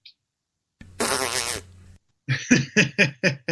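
A voice imitates a fart during a radio show, a brief blown buzzy burst followed by a series of short rhythmic sputtering pops, loud and close with no other talk.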